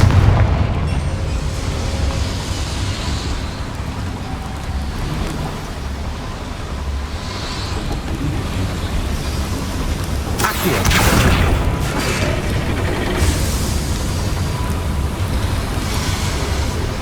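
A Confringo blasting spell in Hogwarts Legacy goes off midway as a loud booming explosion over a steady rumbling battle din, with a faint burst of sound near the start and no voices heard.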